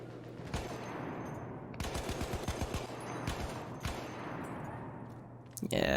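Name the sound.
gunfire in Battlefield 1 video game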